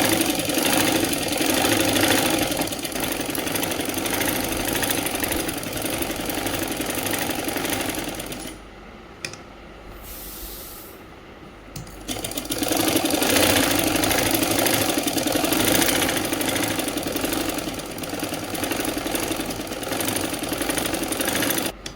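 A sewing machine runs steadily down the center seam of a Patiala salwar, a continuous loud whirring that pauses briefly midway and then resumes for a long stretch.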